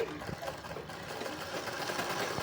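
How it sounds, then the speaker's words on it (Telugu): A sewing machine stitches piping cloth onto a blouse with a steady, rapid mechanical whir that runs throughout, partly under a person talking. "కుట్టేటప్పుడు పైపింగ్ క్లాత్ని కానీ అలాగే బ్లౌజ్ని కానీ ఇగ్గకోకుండా కుట్టుకుంటూ రావాలండి"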